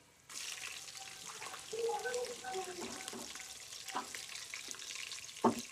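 Green chilli fries in hot oil as vegetable pulao begins, a soft sizzle that starts abruptly and continues near, with small crackles and a sharp clink near the end.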